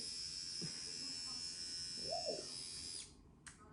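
An Elle facial hair remover bought at Action is switched on, its spinning head giving a steady, close, high-pitched electric whine, with brief voice sounds partway through before the motor cuts off near the end.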